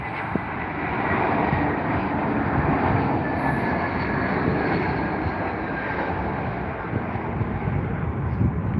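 A British Airways airliner arriving at Heathrow makes a steady, loud broadband jet roar that holds evenly throughout without fading, heard from close by.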